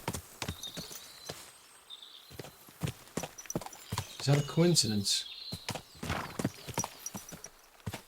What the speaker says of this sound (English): There's a black horse there.